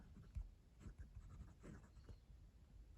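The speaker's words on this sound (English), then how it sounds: "I think it writes really well, so let's see it writing." A Pilot Custom Heritage 92 fountain pen with a 14 karat gold nib scratches quietly across paper, soft close strokes and small taps in an irregular rhythm.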